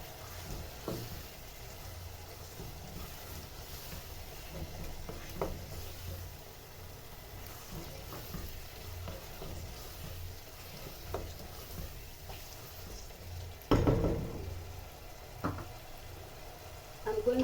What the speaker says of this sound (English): I'm going to let it simmer